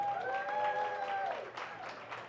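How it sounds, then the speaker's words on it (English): Applause at a live music show in a cafe and grill, a soft wash of clapping heard at a distance under a sustained tone that fades, then the clapping carries on faintly. "Give a round of applause for yourself."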